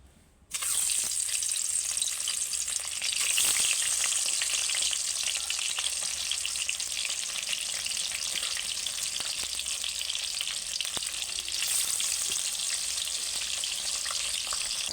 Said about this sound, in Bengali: প্রথমে আমি কড়াতে তেল দিয়ে দিয়েছি এবার মাছগুলো তুলে দেবো